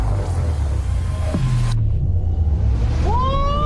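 A Chevrolet Blazer EV SS accelerating hard in Wild Mode, with a steady low road rumble and a rising electric whine that sweeps upward, loud and close throughout, with no talking.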